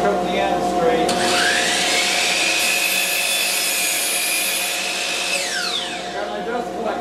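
A power saw cuts straight across the end of a wooden plank with a dust collector running, the blade's sustained whine and rasp loud and close for several seconds before winding down.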